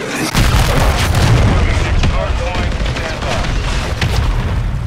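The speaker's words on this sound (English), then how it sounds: "Hostiles launched a cruise missile." A cruise missile explosion in Modern Warfare 3 booms loud and near, a broad rumbling blast that sustains across the whole clip amid dense gunfire-like crackle, with faint voices underneath.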